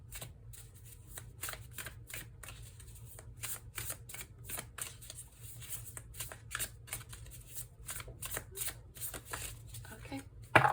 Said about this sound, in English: I'm gonna shuffle just a little bit more and then see if any other cards pop up.